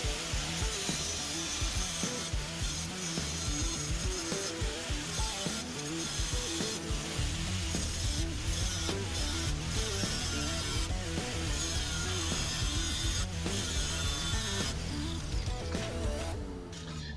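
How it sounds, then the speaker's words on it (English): A grinder scores steel plate for a DIY smokeless fire pit, giving a steady, gritty rasping and scraping close by with uneven pulses, continuous for about seventeen seconds. "so I can score with a grinder either side to help me make a nice sharp bend"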